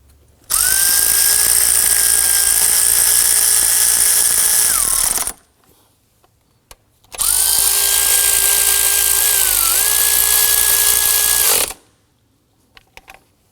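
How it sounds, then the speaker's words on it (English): Two long, loud bursts of a power tool whirring at a steady pitch while driving bolts during a serpentine belt replacement on a Volvo XC90, briefly dipping as it seats, separated by a pause with a faint click. "we can grab our power tool and zip those in"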